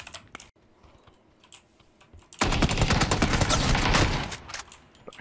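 Rapid gunfire bursts in a shooter video game, a loud sustained volley in the middle after quieter clicks and game sounds, with no talk.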